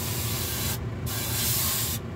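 A loud, close hiss of spray paint on an O scale 40-foot model box car, in two bursts separated by a brief pause, with no talking.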